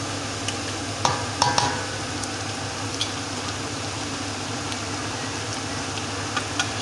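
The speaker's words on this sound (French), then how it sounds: "Voilà, j'ajoute un peu d'eau." A Togolese adémédéssi sauce sizzles in a pot as a little water goes in and it is stirred, a steady frying hiss with a few clinking utensil taps and no talk.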